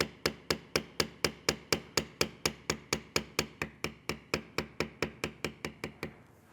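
A beveling tool is struck again and again with a mallet, about thirty crisp, evenly paced knocks that ring close and clear with no talking.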